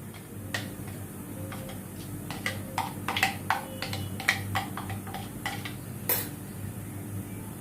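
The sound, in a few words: transferring chopped onion from chopper onto a plate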